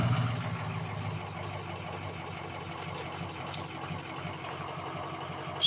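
A truck engine idles close by with a steady low diesel rumble that barely changes throughout.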